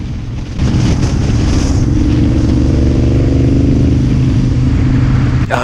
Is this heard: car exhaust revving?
yes